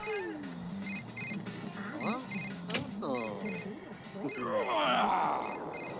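A telephone in The Sims 3 rings in repeated short trilling bursts, moderately loud, while the game's simlish voices chatter and groan in between.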